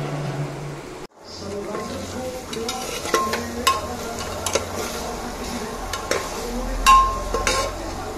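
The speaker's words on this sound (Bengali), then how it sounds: "তো এখানে একটু সোয়াবিন আর আলু কষাচ্ছি" Soybean chunks and potatoes sautéing in a pan, a continuous sizzle with repeated spoon scrapes and clinks against the metal, close and moderately loud.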